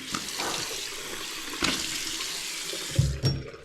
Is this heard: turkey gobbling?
no